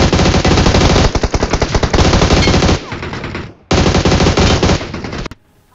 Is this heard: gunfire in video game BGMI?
yes